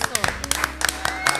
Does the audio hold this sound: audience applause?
yes